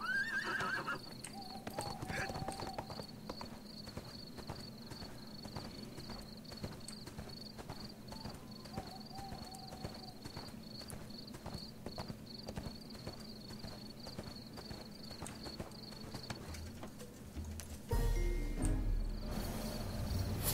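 A horse in the online game ArcheAge whinnies at the start, then its steady, rhythmic hoofbeats clip-clop along, close and clear, before the sound changes abruptly near the end.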